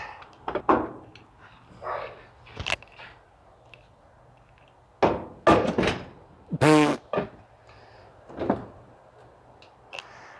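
A loose door on a Corvette C3 bangs and thunks during body removal in a home garage, with several scattered knocks and rattles of varying loudness, plus a creaking scrape near the middle.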